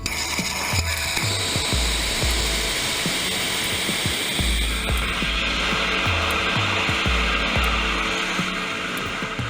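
Masten rocket engine igniting at takeoff with a loud, continuous broadband roar that fills the clip, carrying rough low rumbling bursts beneath a steady hiss.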